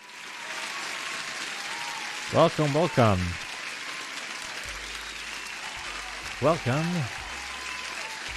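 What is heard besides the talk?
applause sound effect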